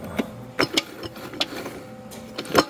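Metal shell piece being seated into a TH350 automatic transmission, giving scattered light metallic clicks and taps, close up, with no talking.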